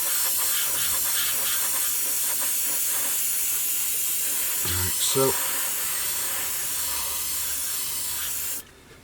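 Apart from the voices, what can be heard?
airbrush spraying lacquer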